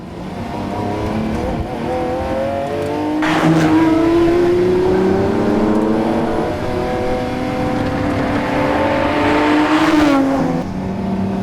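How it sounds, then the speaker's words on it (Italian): A Lamborghini Sian's 785-horsepower V12, paired with an electric motor, revs hard and climbs through rising pitches, with two sharp surges and gear-change drops, loud and close with no voices. "il motore che c'è qua dietro è il V12 Lamborghini più potente di sempre, 785 cavalli"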